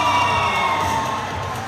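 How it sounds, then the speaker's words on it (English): A crowd cheers and applauds at a junior 10m air pistol women's final medal moment in New Delhi, a steady, loud wash of voices and clapping sustained throughout. "Massive cheers"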